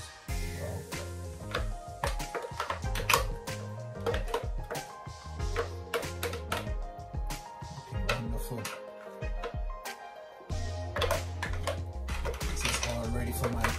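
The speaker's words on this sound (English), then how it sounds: "I'm just going to scrape this out into this container" Spoon or spatula scraping thick red sorrel puree out of a pot into a container, repeated clinking and scraping strokes in an uneven rhythm, close and fairly busy, with no voices.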